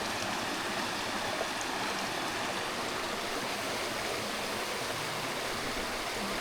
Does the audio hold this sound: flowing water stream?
yes